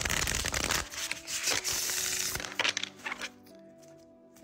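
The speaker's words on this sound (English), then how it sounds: "I'm going to do one more shuffle." Tarot cards riffle and slap together in a few quick bursts, close and crisp, then the sound settles into quiet with a faint tone.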